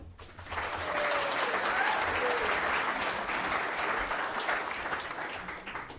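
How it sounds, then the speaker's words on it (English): Sustained applause from a hall of fame ceremony audience at an athletics event, dense and steady for several seconds with a few faint voices and whistles mixed in. "Jean Marie got a bigger round of applause."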